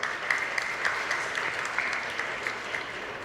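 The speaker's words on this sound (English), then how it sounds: "Please give them a round of applause" A school audience at an inter-school history quiz in Goa applauds a competing team with steady, even clapping from many hands throughout.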